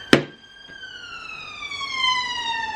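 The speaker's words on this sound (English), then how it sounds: "Just wait for the ambulance to go by." An ambulance siren passes outside, a long wailing tone that slowly falls in pitch as it goes by, after a sharp thump at the start; distant and muffled, with no speech.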